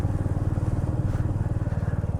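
A motorcycle engine idles and putters steadily on a valley ride near Chembra Peak in Wayanad, with a close, loud, evenly pulsing low-pitched rhythm and no talk over it.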